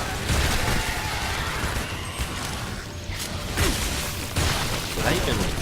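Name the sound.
explosions in Shadow Warrior video game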